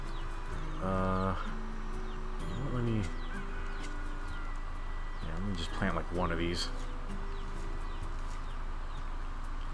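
Chickens clucking in the video game NieR Replicant, a few short clucking bursts at moderate level over game background sound, with a person talking casually alongside.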